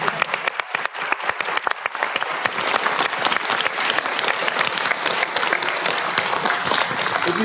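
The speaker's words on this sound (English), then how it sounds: "You can applaud her if you want." Steady audience applause at a local election hustings in Exmouth, a dense wash of many hands clapping that runs the whole time at an even level, with no voices standing out.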